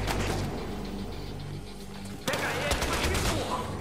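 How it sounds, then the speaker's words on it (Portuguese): Gunfire in the video game Battlefield Hardline: a run of sharp shots and rapid bursts breaks out partway through, loud and close, over steady game ambience with voices in the mix. "E agora é tiroteio, né?"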